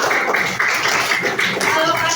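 A group of people in a classroom applaud together, a dense and steady patter of hand clapping for about two seconds.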